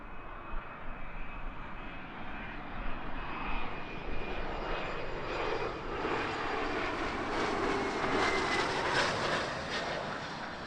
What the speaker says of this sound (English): Nice little bizjet mixing it up here at Heathrow.